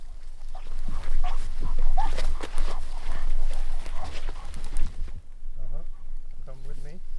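A hunting dog whimpers during a capercaillie and black grouse hunt in a Swedish forest. Several short, rising whines come near the end, after a stretch of rustling outdoor noise.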